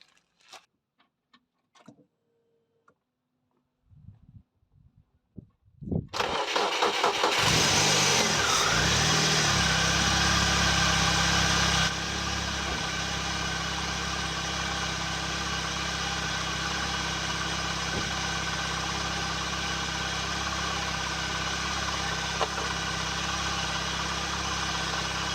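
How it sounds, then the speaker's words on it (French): A BMW E36 running a homemade ethanol conversion cranks and fires after a few quiet clicks and handling noises, then settles into a loud, steady idle that continues to the end with a slight drop in level partway through. "je vais démarrer"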